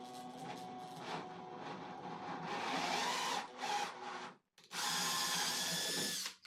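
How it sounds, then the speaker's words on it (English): A power drill bores an undersized hole to be tapped for 1/4-inch threaded rod while building a hybrid bar clamp: a steady, close, loud whine that rises in strain, cuts out briefly, then resumes at full speed. "drill the hole slightly undersized so I can tap it for 1/4-inch threaded rod"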